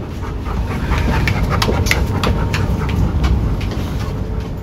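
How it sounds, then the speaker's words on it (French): A female gendarmerie police Malinois pants steadily and close up aboard a moving TER regional train in Provence, her rapid breaths mixed into a constant loud rumble and rattle of the carriage. "Et bien là, on entend le souffle de Java"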